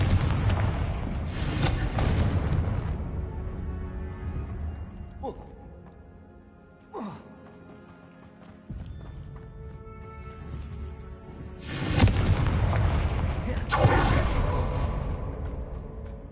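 Confringo blasting curses explode in Hogwarts Legacy, several heavy booming blasts with rumbling tails, a quieter stretch with a few whooshing effects between them, and a voice speaking over the action.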